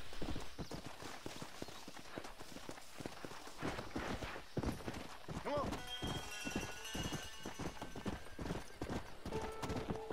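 Horse hooves clip-clopping in the video game Red Dead Redemption 2, a quick irregular walking rhythm with snorts and a brief whinny, other game sounds around it, and a voice talking.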